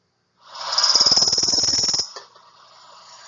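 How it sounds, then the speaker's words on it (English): Worm-eating warbler song: a single dry, buzzy insect-like trill lasting about a second and a half, fairly loud and close, followed by faint background birdsong. "here is the song of the worm-eating warbler"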